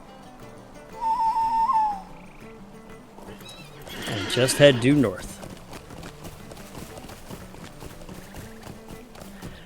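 A horse in Lord of the Rings Online whinnies loudly, and a steady clip-clop of hooves follows. Someone talks over it throughout.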